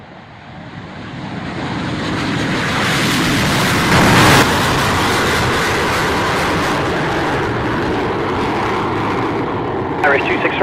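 Aircraft take off on departure day of the Royal International Air Tattoo air show, producing a loud, sustained engine roar that builds over several seconds and holds near and powerful before easing slightly.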